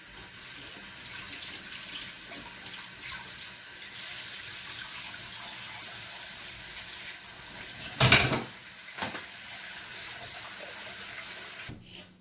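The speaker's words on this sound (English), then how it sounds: "I'm going to wash it." A pawpaw is rinsed under steady running tap water in a sink, a soft continuous stream with a brief louder splash near the end.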